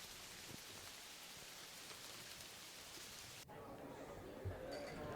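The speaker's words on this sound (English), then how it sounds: "Do you like the gentle patter of the rainforest?" Soft, steady rain patter, quiet and even, shifting slightly in tone partway through, with a faint thump near the end.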